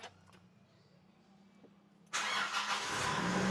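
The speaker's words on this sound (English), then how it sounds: "when you start up the car, the engine oil warning disappears immediately" A 2024 Nissan Navara engine cranks and fires after an oil change, jumping from a quiet low hum to a loud, steady broadband engine roar that holds to the end, close to the microphone with no talk.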